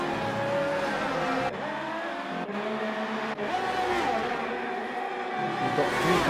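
Formula 1 race cars racing at Brazil in F1 2018: loud, high-pitched engine whine rising through gears with abrupt cuts at shifts, cars running close together down a straight.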